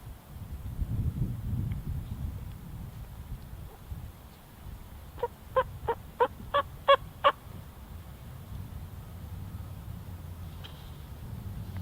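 A wild turkey gobbles in a quick rattling burst of about seven pulses, fairly distant, during an opening-morning turkey hunt, over quiet outdoor background with no talking.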